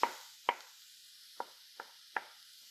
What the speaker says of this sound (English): I'm going to actually just chop it up just a little bit more so it can go in our mix